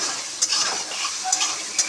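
Marinated mutton tossed into frying onions, a bright close sizzle running throughout with a few quick stirring scrapes and clicks from the spoon.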